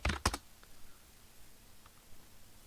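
A short burst of several quick keystrokes on a computer keyboard, clicking close by at the start, then near silence with only a couple of faint taps.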